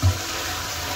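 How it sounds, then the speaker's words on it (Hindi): Strained beef stock with whole spices poured in bulk into a large cooking pot for Peshawari pulao: a continuous rushing, splashing pour of liquid, steady and close, with no talk. "यखनी को छान के डाल रहे हैं क्योंकि खड़े मसाले हैं यखनी में"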